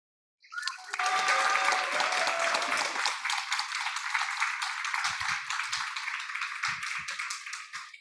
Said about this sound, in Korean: 우리 선생님들 모두 축하의 박수를 드립니다